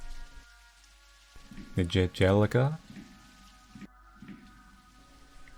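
Steady rain falls in a Japanese horror video game, a soft continuous hiss running through the whole stretch while a voice speaks over the middle of it.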